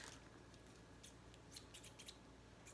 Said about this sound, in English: So you're gonna cut these.